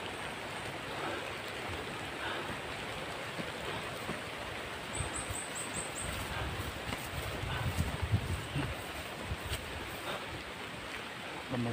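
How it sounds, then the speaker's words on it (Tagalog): Steady rain patters continuously over a dense hiss, with occasional faint rustles and a brief high chirp in the background. "Tuloy ang pagulan"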